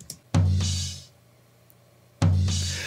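Two loud tom drum hits about two seconds apart, each with a booming low body and a long, slowly fading ring.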